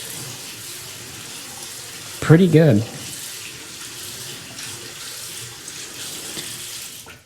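A cabin faucet runs steadily with hot and cold water, a constant close splashing rush into the sink, while a voice speaks briefly over it.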